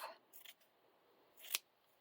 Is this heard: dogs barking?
no